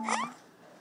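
A single short meow sounds nearby, rising then falling, followed by near silence.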